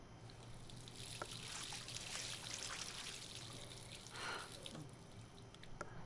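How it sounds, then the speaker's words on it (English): Water runs from a tap in Life is Strange, a steady, soft trickling pour with faint splashes as it falls, continuous and fairly quiet, with no talking over it. "Wish I could cup water like that."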